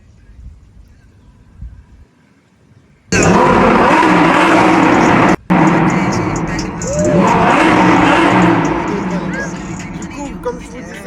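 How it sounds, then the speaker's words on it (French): A Lamborghini in Dubai suddenly roars loud after a quiet start, its engine noise breaking off briefly, then surging again with a rising swell while people talk over it. "Écoutez un peu le bruit du Lambo"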